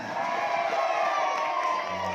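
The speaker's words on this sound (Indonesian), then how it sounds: "Cuma tepuk tangan plus suara" A group of children claps and shouts together at an Islamic boarding school quiz competition, a dense, steady wash of cheering noise that holds level without a break.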